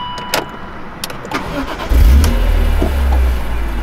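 A BMW M3 CSL engine cranks and fires up about halfway through, catching into a loud, deep idle after some quieter interior clicks and handling noises.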